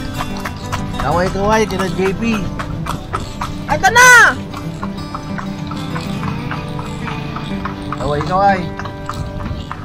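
Horse hooves clip-clop steadily as a kalesa carriage rolls through the streets of Vigan, with voices talking and calling out over the rhythmic clatter.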